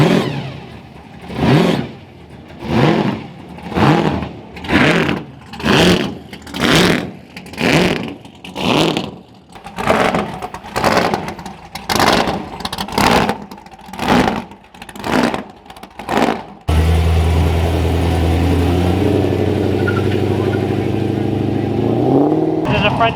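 An 1100-horsepower Barra turbo engine in a ute at Powercruise revs hard in a quick, rhythmic series of loud bursts, then drops into a steadier sustained drone toward the end.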